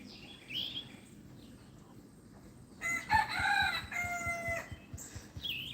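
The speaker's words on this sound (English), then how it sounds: "Hear them old roosters crowing, Rat?" Several roosters crow on a farm in the morning, one long clear cock-a-doodle-doo standing out mid-clip with fainter crows and clucks around it, nearby and fairly loud over a quiet yard.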